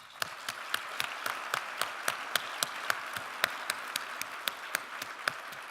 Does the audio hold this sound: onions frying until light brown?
no